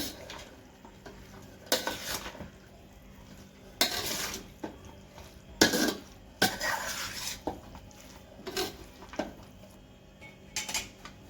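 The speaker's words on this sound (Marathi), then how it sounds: "थोडं थोडं घालते मिक्स करून घेते मी लोणचं" Bhokar pickle being stirred and mixed in a metal pot, with intermittent scraping and clanking bursts of a spoon against the pot, several distinct strokes separated by quieter pauses, close and fairly soft.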